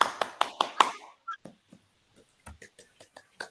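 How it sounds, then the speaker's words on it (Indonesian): Children clap hands in an elementary classroom during a peer teaching lesson, with a burst of quick rhythmic claps followed by scattered, fainter claps and taps in a quiet room. "Tepuk tangan untuk kita semua."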